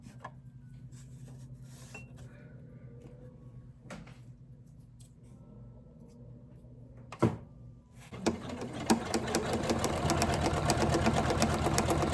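A Janome 500e embroidery machine hums quietly while stitching a Halloween napkin, then breaks into loud, fast, continuous needle stitching near the end, with a few clacks in between.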